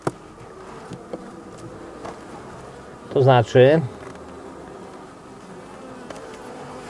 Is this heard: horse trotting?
no